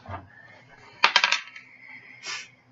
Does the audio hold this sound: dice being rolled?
yes